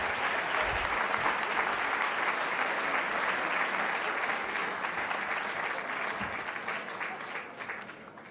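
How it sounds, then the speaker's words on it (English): Audience applause for panelists at the opening plenary session of an 84th Winter Meeting: a dense, sustained clapping that holds steady, then slowly thins and fades toward the end. "Please give our panelists a round of applause."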